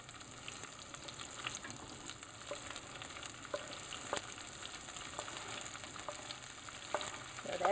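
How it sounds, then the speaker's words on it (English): Onions and green pepper fry in a pan for a meat sauce, giving a steady, close hiss of sizzling with faint crackles and a few soft stirring scrapes throughout. "now I'm gonna add the onions and our green pepper"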